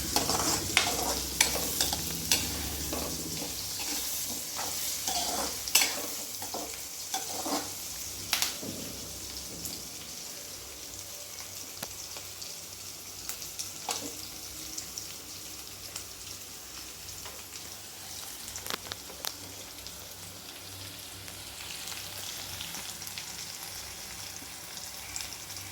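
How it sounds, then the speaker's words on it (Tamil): Garlic and onions sauté in a pan with a soft, steady sizzle, punctuated by frequent spoon scrapes and taps that are denser early and more sparse later on. "இப்போ பூண்டும் வெங்காயமும் கொஞ்சம் நல்லா வதங்கிடுச்சு."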